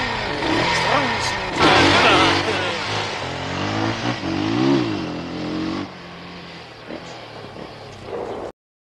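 An engine revs up and down in several rising and falling sweeps, fairly loud and close, with some background noise before cutting off.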